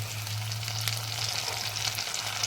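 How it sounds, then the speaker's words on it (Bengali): Ginger-garlic paste hits hot oil in a pan and sizzles steadily, a bright crackling hiss with a low hum running underneath, close and continuous with no talking. "আমি আদা রসুনের পেস্ট দিয়ে দিলাম"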